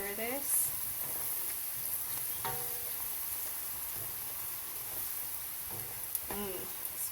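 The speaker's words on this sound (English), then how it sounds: "So we'll stir this." Pilau cooking in a pot, a steady low sizzle and fry running throughout with a few brief scraping stirs, while a person talks intermittently nearby.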